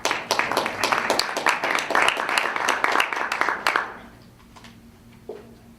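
Audience at a Marine Corps flag presentation ceremony clapping vigorously for about four seconds, distinct individual claps audible, then the applause stops abruptly into quiet room tone with a faint thump.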